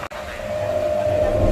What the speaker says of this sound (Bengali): গাইস ট্রেনটা আসছে